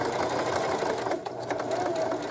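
A sewing machine runs steadily while stitching an appliqué curve onto a sweatshirt, a close, continuous buzzing drone of needle strokes that dips briefly partway through.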